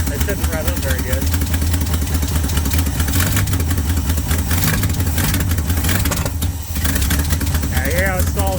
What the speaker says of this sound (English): if this accelerator pump's not working, it shouldn't rev up very good